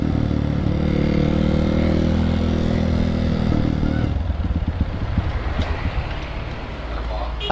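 A motorcycle engine is throttled up close, holding a steady, loud revving drone for about four seconds, then dropping into a rougher, chugging idle, with wind noise around it.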